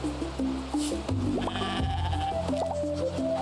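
Goat bleats from the video game Roots of Pacha: several short, clear bleats in quick succession over steady in-game farm music, close and fairly loud, with no talking.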